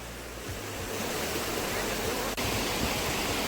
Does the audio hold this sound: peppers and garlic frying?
no